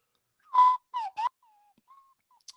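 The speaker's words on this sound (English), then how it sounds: "I've been practicing my slide whistle while Greg's away." A slide whistle played live on a podcast, a few short gliding tones with pitch bends in a quick burst, then fainter, thin sliding notes trailing off, heard alone without talk.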